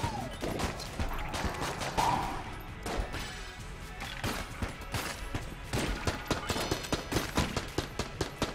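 Rapid bursts of gunfire shooting ice in the video game Enter the Gungeon, a dense run of sharp, close shots in quick rhythm with crashing impacts throughout, no talk.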